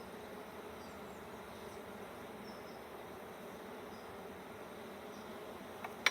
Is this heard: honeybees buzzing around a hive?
yes